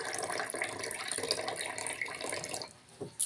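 Tap water runs steadily into a drinking glass at close range, a bright splashing flow that cuts off near the end.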